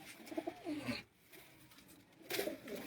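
Desi-breed pigeons coo at a pigeon sale point of a Mianwali pigeon club, soft throaty calls close by in two clusters with a brief lull between.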